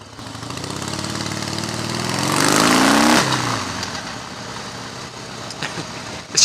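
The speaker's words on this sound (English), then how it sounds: "coming out of junctions and just blipping the throttle and stuff like that" A Harley-Davidson Softail Custom motorcycle engine rumbles nearby, its throttle blipped into a rising rev that peaks and drops back to a lumpy idle, with no talk over it.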